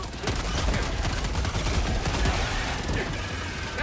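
Assault rifle fire in Helldivers 2 on the hardest difficulty: a dense, continuous stream of rapid shots with no pauses, loud and close.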